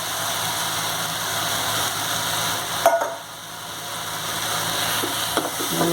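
Ground black sesame seeds roasting in a pan for a sweet sesame ball made with sathu maavu: a steady, dry sizzling hiss with a brief clatter partway through and no talk.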